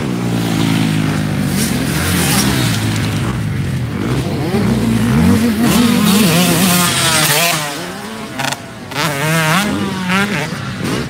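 A 125 motocross bike rides a dirt track close by, its two-stroke engine loud and rising and falling through gear changes and revs, with the pitch dipping briefly near the end.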